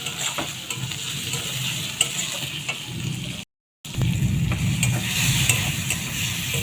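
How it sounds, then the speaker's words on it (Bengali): Chopped tomatoes sizzle and fry in a pan for a Bengali rohu fish curry, with a spoon stirring through them; a steady hiss with scraping strokes, broken by a brief gap. "এবার দিয়ে দেবো টমেটো কুচি। এগুলো ভালো করে কষিয়ে নিতে হবে।"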